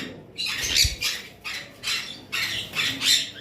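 Conure parrots, a pair of a violet bloodline, give a run of harsh, screechy squawks in repeated bursts, fairly close and with no talk.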